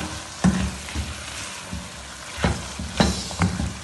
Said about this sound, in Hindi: बस अब इसको इतना हमने भूनना है कि हमारा जो टमाटर है गल जाए और हमारा जो पानी है थोड़ा सा ये खुश्क हो जाए।